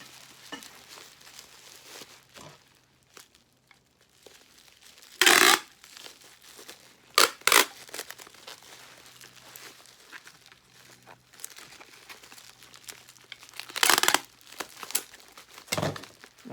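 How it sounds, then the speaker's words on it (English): Bubble wrap and tape being handled while an item is packaged for shipping: a few loud, sharp crinkles and tape rips stand out over a quiet background, with long gaps of near silence between bursts and no talking. "when you're taping these edges, kind of wrap it up in such a way that it attaches to the rest of the bubble wrap"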